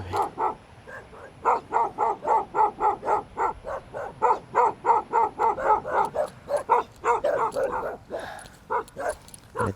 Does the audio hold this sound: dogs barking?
yes